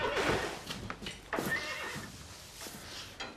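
A horse neighs and whinnies close by in several short, breathy bursts.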